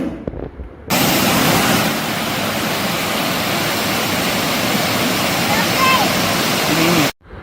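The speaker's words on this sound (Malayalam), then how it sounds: "ഇങ്ങനെ ജമ്പ് ചെയ്യുമ്പോൾ നല്ല രസമാണ് കേട്ടോ വെള്ളം ചാടുന്നത് കാണാൻ" A loud, continuous roar of cascading water from a nearby waterfall in Kondotty, Kerala fills nearly the whole stretch, cutting off abruptly at the end.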